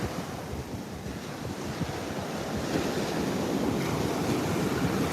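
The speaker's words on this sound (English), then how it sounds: "Sometimes I just want to watch the waves break on the shore." Ocean waves break on a Miami beach shore in a continuous, steady wash of surf, with wind buffeting the microphone and no voices.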